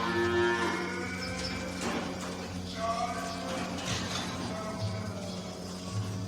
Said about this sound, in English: These are the lactating cows.